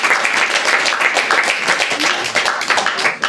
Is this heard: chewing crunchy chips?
no